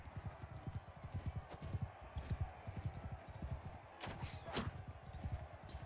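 Galloping horses in the medieval battle game Bannerlord, with rapid rhythmic hoofbeats drumming steadily under distant battle noise, plus a brief louder swell partway through.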